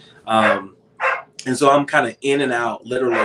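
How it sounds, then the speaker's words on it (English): A pet dog barks in short yips and woofs indoors, close by, interleaved with a person talking over it. "sorry about my dog barking"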